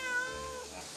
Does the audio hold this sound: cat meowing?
yes